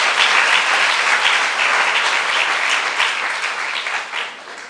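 Sustained applause from an audience at a women-in-STEM girls' camp event, steady and dense throughout before thinning slightly near the end.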